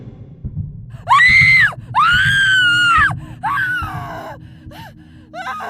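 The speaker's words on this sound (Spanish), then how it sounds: "Shep jadeaba, gritaba y se movía como si la asfixiaran" A girl gasps and screams as if suffocating: drawn-out strained cries with ragged gasps between them, loud and close over a low pulsing background.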